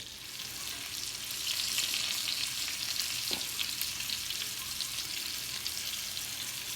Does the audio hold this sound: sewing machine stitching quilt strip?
no